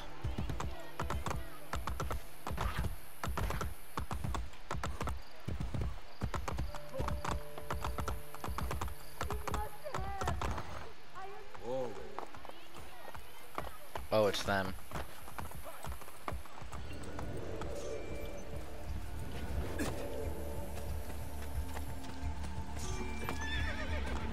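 In the Assassin's Creed Brotherhood video game, a horse's hooves clip-clop in rapid rhythmic beats with a loud whinny midway, mixed with computer keyboard typing and game sound effects, plus brief talking.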